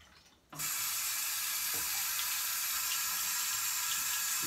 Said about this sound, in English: That's our Kingston Brass faucet.